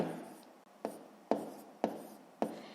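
A pen writing decimal numbers in a sixth-grade maths exercise, heard as five crisp, evenly spaced strokes across paper, close and clear against a quiet background.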